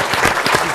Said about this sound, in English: I do want to offer a big round of applause to her